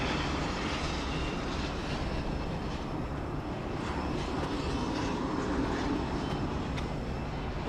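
A Qantas passenger plane lands on runway 34 left at Sydney Airport. A steady, broad jet roar holds at an even loudness throughout, with no voices.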